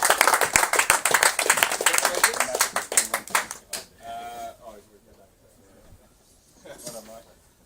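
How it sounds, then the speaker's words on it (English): At a kart race prize ceremony, a small crowd claps rapidly and loudly for a few seconds, then the clapping stops and a voice speaks briefly over quiet background. "Let's give a big round of applause to Mike Wood."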